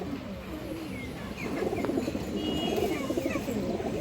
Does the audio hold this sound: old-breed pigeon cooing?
yes